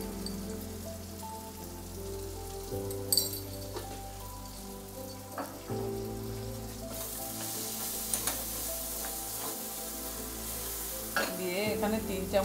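Spice masala stir-fried in a pan with a splash of water, a busy crackling sizzle punctuated by repeated scraping and clanking of a spoon against the pan, steady and moderately loud.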